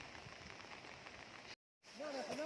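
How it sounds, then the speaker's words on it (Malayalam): Steady rain falls as a soft, even hiss, which cuts out briefly before a voice starts over the continuing patter. "ആഹാ, എന്ത് നല്ല മഴ."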